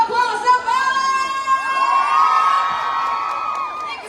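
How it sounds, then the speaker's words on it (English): A crowd at a live mall event at Ayala Center Cebu cheers and whoops loudly, with shouting children and a voice carrying over the sustained, energetic noise. "give a big round of applause naman!"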